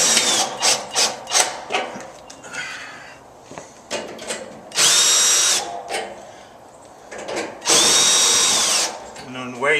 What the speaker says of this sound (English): If you use a screw gun, you don't want to torque it down with it.